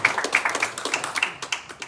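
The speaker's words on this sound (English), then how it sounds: "Thank you for giving them a round of applause." Audience applause for candidates at an evening conversation event, a small, close group clapping in a quick, uneven patter that carries steadily throughout.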